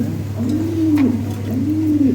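Lahore Siraji pigeons coo close by, a low, rolling, throaty call repeating in two rising-and-falling phrases over a steady indoor hum, with no talk.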